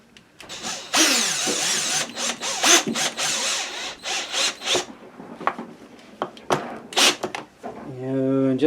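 A T25 screw driven into a McCulloch Mac 3516 chainsaw with a screwdriver, giving close, uneven bursts of grinding and rasping scrapes with pauses between turns, while someone talks at points.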